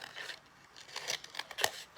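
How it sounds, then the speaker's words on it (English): Paper being cut with scissors in a craft setting, a series of quick crisp snips and rustles, close up, growing sharper and more frequent toward the end. "let's just do it really quick here with my scissors"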